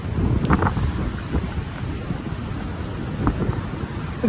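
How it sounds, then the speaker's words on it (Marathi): Heavy rain and gusting wind at a seashore, a steady loud broadband roar with rumbling low buffeting and a few brief splashy bursts throughout. "काय गौरव कारण इथे पाऊस कुठेही आमचा निभाव लागून देणार नाही"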